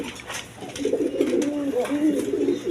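A pair of high flying Giribaz pigeons coo close by, soft rolling calls repeating under a voice.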